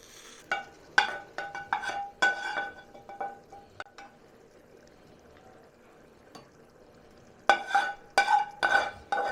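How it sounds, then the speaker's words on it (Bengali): Gravy poured over bhetki fish in a pan on a gas stove, heard as close, intermittent bursts of liquid splashing and gentle sizzling separated by a quiet stretch in the middle. "এবার আমি গ্রেভিটা মাছের ভেতরে ঢেলে দেবো।"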